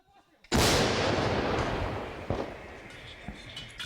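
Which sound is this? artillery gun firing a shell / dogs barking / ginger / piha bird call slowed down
artillery gun firing a shell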